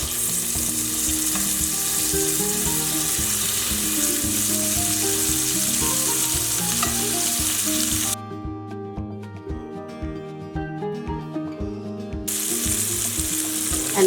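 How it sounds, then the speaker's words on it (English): Wild turkey pieces fry in hot butter, a steady close sizzle that runs unbroken while music plays underneath, with the music dropping out briefly partway through. "All right, our butter is hot, so we can start adding our turkey."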